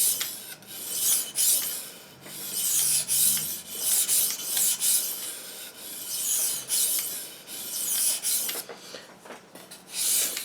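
A Newfoundland skinning knife being sharpened, rhythmic rasping strokes of the blade across an abrasive surface, close and repeated in bursts of roughly a second each with brief pauses between.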